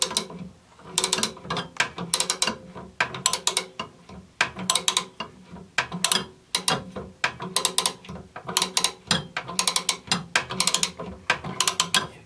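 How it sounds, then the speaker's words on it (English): A 1-inch ratcheting wrench turns on a pressure switch fitting of an NTI Ti100 Trinity boiler, giving bursts of close, loud clicking ratchet strokes that repeat in a steady rhythm with short pauses between sets. "Go get a 1-inch ratcheting wrench."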